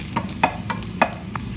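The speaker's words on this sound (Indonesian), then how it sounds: "Tumis bawang putihnya." Garlic sizzles as it is sautéed and stirred in a pan, with several short scraping stir strokes spaced irregularly over a soft, constant frying hiss.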